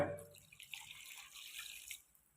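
A quiet stream of water pours and splashes briefly into a pot of cooking chicken, soft and close.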